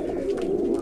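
Pouter pigeons coo in a steady, low, throaty murmur, close by and continuous through the brief moment, with no voices.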